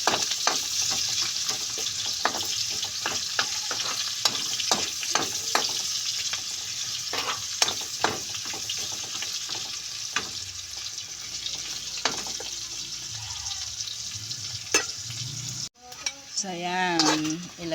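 Onions sizzling with garlic in a pan for a black bean dish, stirred with frequent clicking scrapes against a steady frying hiss. A voice speaks briefly, and a louder, different clatter closes the sequence.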